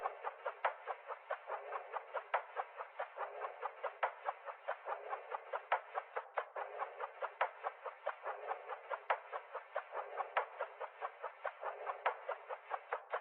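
A quiet percussion loop from the Goldmine sample kit repeats in a steady bouncy rhythm of light, mid-pitched clicky hits, thin and without low end, playing alone.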